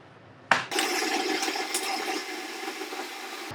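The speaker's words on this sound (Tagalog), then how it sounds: "maghuhugas muna ako ng mga pinggan" Cold tap water gushes in a kitchen while dishes are washed by gloved hands, a sudden onset followed by a steady, close splashing rush that slowly eases.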